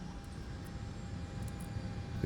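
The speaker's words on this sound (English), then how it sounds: "APU spooling up" An aircraft APU spools up in Microsoft Flight Simulator 2024, a low rumbling, gradually building engine noise with a thin steady tone on top, heard alone for a couple of seconds.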